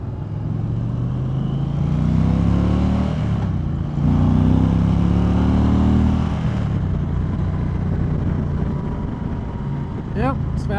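A 2020 Indian Challenger Dark Horse motorcycle rides along steadily, its engine drone rising and falling through gear changes with loud wind rush, up close for most of the stretch.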